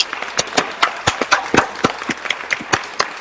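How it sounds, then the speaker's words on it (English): Studio audience on a game show breaks into applause, a dense run of sharp claps with rising and falling bursts, close and loud, with no talk over it. "Round of applause for Mr. Hunter Dillon"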